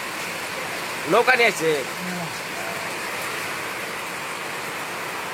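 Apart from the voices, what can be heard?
rain falling in a village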